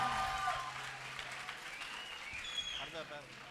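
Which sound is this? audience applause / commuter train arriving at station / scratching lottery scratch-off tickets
audience applause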